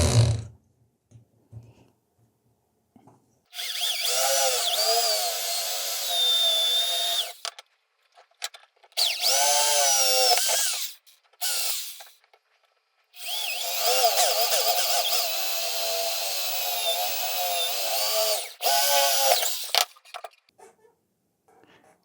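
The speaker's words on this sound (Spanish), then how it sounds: "Con una barrena mínimo de 1/8 para poder cruzar fácilmente los tornillos" A power drill fitted with a 1/8 inch bit boring screw holes, heard close as three sustained whining bursts with rising and falling pitch, separated by near-silent pauses and a few small knocks.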